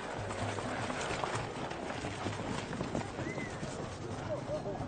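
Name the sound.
horses trotting in a race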